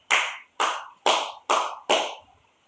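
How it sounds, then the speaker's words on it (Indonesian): Five sharp rounds of classroom clapping for a student group, about half a second apart, loud and close with no talk. "mari kita berikan aplaus kepada kelompok 3 yang sudah menyampaikan hasil diskusinya"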